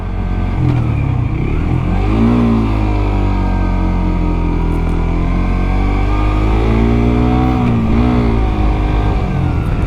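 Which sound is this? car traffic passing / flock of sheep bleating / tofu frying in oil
car traffic passing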